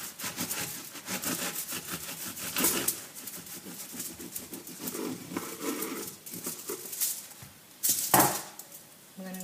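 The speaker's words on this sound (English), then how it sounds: "with a very large serrated knife, very sharp, very large serrated knife, we're going to trim the edges" A very large, sharp serrated knife saws through the edges of stacked puff pastry layers, giving a faint, rhythmic scraping and crunching of back-and-forth strokes.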